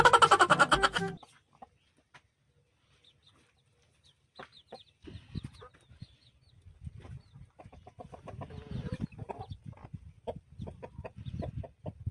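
Rhode Island Red chickens clucking close by, a short loud burst of calls at the start, then near silence, followed by scattered soft clucks and rustling.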